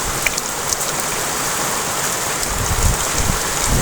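Heavy rain pours steadily across open farm fields, a dense continuous hiss that swells slightly louder toward the end, with no voices.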